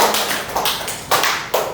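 A small class of school students claps for the third and final group, a few sparse, scattered hand claps coming in short bursts at moderate distance with no voices over them.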